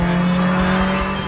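1980s BMW M1 sports car engine while driving: a steady, loud, close engine tone that holds one even pitch for the whole brief moment.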